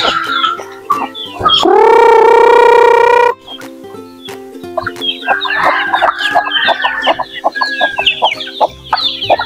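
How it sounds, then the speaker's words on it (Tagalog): Native chickens clucking and squawking around feeding time, with one loud drawn-out rooster crow up close, followed by busy overlapping clucks and scratching from the flock. "Ito po yung mga native natin mga idol oh. Pakainin natin sila mga idol."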